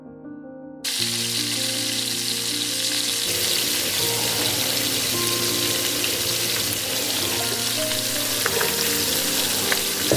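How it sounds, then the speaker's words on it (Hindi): Eggs fry in a pan for an egg and spinach dish, a loud, steady sizzle that starts abruptly and holds continuously up close with occasional small pops and scrapes. "अच्छी तरह इसमें फ्राई करेंगे। अच्छी तरह इसको पकाएंगे।"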